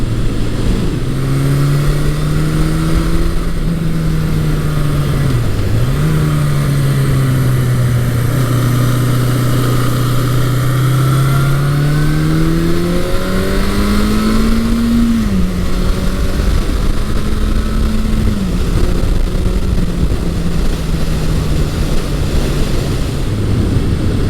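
A 1980-1981 Suzuki GS1100E superbike riding on the road, its engine droning steadily with a strong, continuous note that rises and falls with throttle changes, heavy wind noise throughout and no speech.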